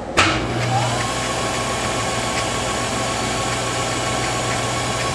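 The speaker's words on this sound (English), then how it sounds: "Now we're drilling the hole that goes in before we do the broach." A circuit board drill starts with a sharp whine, then holds a steady, even mechanical hum and drone while drilling a hole in a probe tip, close and continuous, with no voices.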